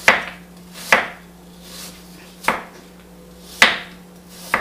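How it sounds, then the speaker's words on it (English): A knife slices through Granny Smith apples on a cutting board in four sharp, evenly spaced cuts, with quiet pauses between them. "we're going to continue to slice"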